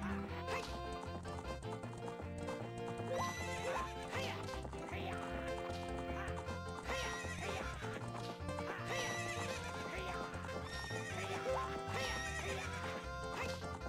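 Horse neighing and hoofbeats at a corral race in the video game The Legend of Zelda: Ocarina of Time, mixed with a steady, busy in-game music track throughout.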